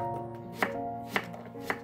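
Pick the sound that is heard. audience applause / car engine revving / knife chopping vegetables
knife chopping vegetables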